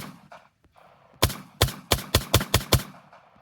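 Six loud, sharp Luger pistol gunshots fire in quick succession, close to the microphone, each a hard broadband crack with a short decay, preceded by a few faint rustles and handling noises.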